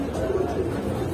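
Racer pigeons coo in low, throaty bursts close by, a soft continuous murmur with several rolling coos in a short stretch.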